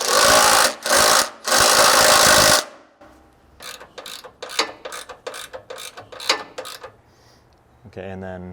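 Ratchet with a 13 mm socket and 5/16 Allen tightening a bolt on a skid plate cross member of a 5th Gen 4Runner or GX460: a run of evenly spaced clicking strokes after loud broadband noise, fairly close.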